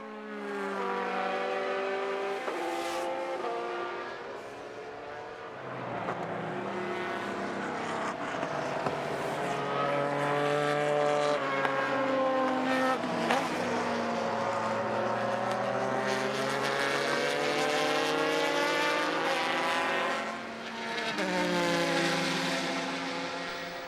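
Race cars in the 2005 Le Mans Series, engines screaming with shifting pitch as they pass, loud and continuous with rising and falling tones through the straight.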